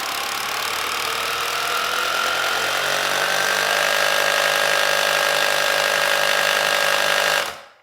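A Bosch Pro 18V cordless rotary hammer drill runs with its soft-start ramp, its motor whine rising steadily in pitch and loudness for about seven seconds as a single continuous run, then cutting off abruptly.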